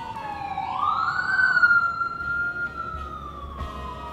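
Police car siren in the video game This Is the Police 2 winds up into one long rising then slowly falling wail. It is loud and clear and fades slightly toward the end, with a faint low engine rumble beneath.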